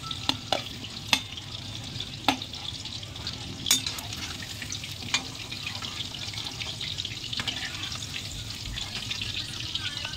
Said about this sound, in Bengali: দেখুন বন্ধুরা, এই পাকোড়াগুলো আমার ভাজা হয়ে গেছে, এবারে নামিয়ে নেব।